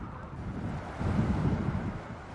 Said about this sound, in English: high winds, some gusting well over 60 kilometers an hour and propelling the flames further